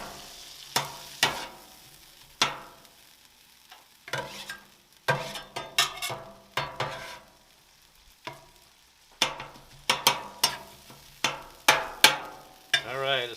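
Taco-style sauce being stirred in a pan in a home kitchen, with repeated scraping and clacking strokes of a utensil against the pan in uneven bursts over a low background hiss, close and fairly loud.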